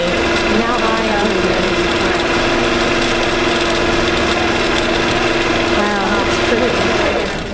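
The motor of an APQS longarm quilting machine hums steadily with a fast mechanical whir as it stitches, loud and constant throughout, with voices faintly underneath.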